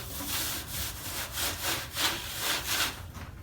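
Rhythmic dry rubbing of cured tobacco leaves pressed flat under hands to make pipe tobacco at a historic homestead, about a dozen regular back-and-forth scrubbing strokes, close and moderately loud.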